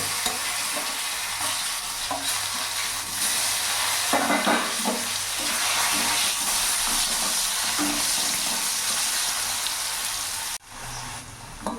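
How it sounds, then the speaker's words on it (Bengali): Potatoes frying in hot oil left over from frying rohu fish, giving a steady loud sizzle with occasional stirring scrapes and a brief break near the end. No one speaks. "আলুটাও আমি ভেজে নেব।"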